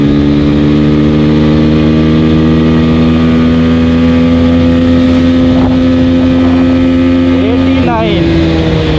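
An Apache RTR 160 4V motorcycle pulls hard in third gear. The engine drone is loud and close, its pitch climbing steadily under rushing wind, then it shifts sharply near the end.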